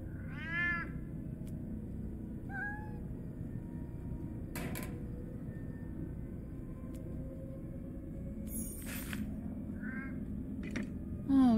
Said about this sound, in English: Oh, you poor cat.